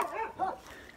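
Farm dogs bark and yip excitedly in the distance, two or three quick faint barks within a second.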